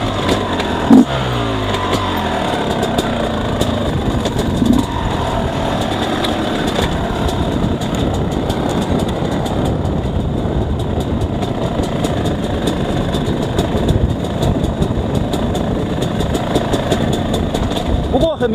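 An XTNG GEN3+ 36 engine runs at low RPM in second gear during a riding test, a steady continuous drone blended with rushing broadband noise for the whole stretch.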